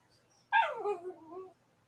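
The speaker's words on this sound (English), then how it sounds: "sounds like somebody's puppy's unhappy" A puppy gives a single whimpering yelp that slides down into a short whining bark, close and fairly quiet, alone against near silence.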